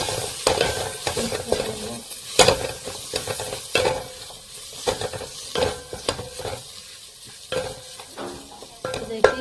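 Spices stirred into French lentil dal in a pan, irregular scraping strokes of a spoon against metal over a soft simmering sizzle, close and uneven in rhythm, with no one talking.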